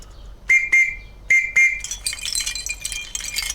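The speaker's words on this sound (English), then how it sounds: "This one is a policeman's whistle called a bobby whistle." A policeman's bobby whistle gives two pairs of short, shrill, steady blasts, close and loud, followed by a busier jumble of bright clinking and rattling tones.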